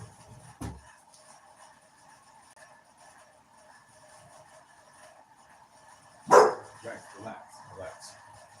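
A dog gives a single short bark early, then a louder bark followed by a few softer yips and whimpers in a quiet indoor room.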